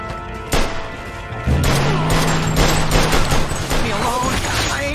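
A shootout in the game Mafia 2 crackles with repeated close gunshots and crashing impacts, dense and loud throughout, with shouted voices mixed in.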